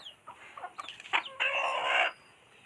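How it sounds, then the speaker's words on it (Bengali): A farmyard rooster clucks and calls near a rural village home in the morning, a few short clucks followed by a louder sustained call, then a brief final cry, with no talk. "মোরগটা কই গেল?"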